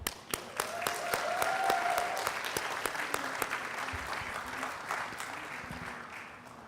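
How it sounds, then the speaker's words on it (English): Audience applause at a climate and displacement event, with scattered individual claps standing out sharply over a quieter wash of clapping, a few voices murmuring underneath and the clapping thinning toward the end. "Let's clap for him."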